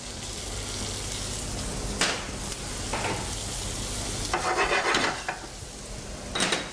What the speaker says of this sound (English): And then you have your onions, garlic. Start to fry them.